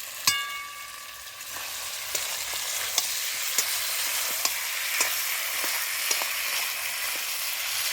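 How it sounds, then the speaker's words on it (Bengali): Meat sautés in oil with spices in a home kitchen, a continuous close sizzle broken by occasional sharp spatula taps against the pan, with no talking. "ওই তেলের মধ্যে সব মশলাগুলো দিই, তারপরে আবার মাংসটা দিলাম, দিয়ে এখন কষাচ্ছি।"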